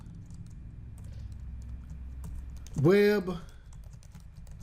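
Keys clatter on a computer keyboard as Java code is typed into a new class, a quick run of close taps before someone speaks over it briefly.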